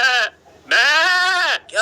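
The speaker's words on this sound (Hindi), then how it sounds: "बकरा रस्सी में फंस गया" A goat bleats twice, close and loud, tangled in a rope; the second cry is long and wavering, with another starting just as the clip ends.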